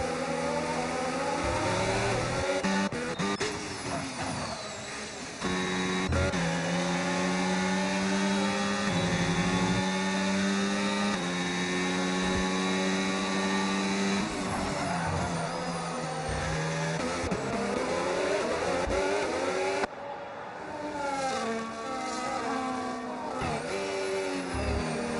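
Race cars lapping the Singapore circuit in a sim racing game, engines whining and shifting pitch as they accelerate and brake, several cars close together, loud and continuous throughout.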